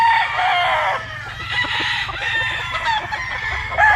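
An imported broodcock rooster crows loudly and close by, with a drawn-out call and clucking, among other chickens on a farm.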